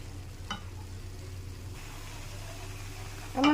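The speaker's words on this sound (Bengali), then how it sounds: "আমার শাক ভাজা, কলাই শাক ভাজা কাঁকড়া দিয়ে তৈরি হয়ে গেছে" Kalai greens and crab fry in mustard oil with a steady, even sizzle, a single clink early on and a louder clatter of the pan at the very end.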